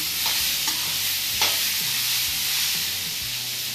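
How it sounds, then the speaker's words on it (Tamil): Vegetables sautéing in a pan for rava kichadi, a continuous loud sizzle with a few spatula scrapes and taps, no voices. "பாருங்கள், காய்கறிகள்லாம் நல்லா வதங்கிடுச்சு"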